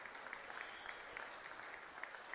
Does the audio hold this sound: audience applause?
yes